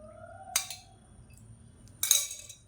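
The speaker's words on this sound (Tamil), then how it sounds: "இப்போ ஒரு தாளிக்கிற பேன் எடுத்துக்கலாம்." A metal tempering pan for sambar is set down and handled on a stove, giving two sharp, close metallic clanks with ringing tails, separated by a quiet pause.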